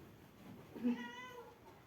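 A cat meows once near the middle, a short rising-falling call heard fairly close against a quiet indoor background with no talk.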